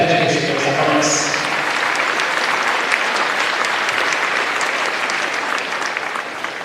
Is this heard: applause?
yes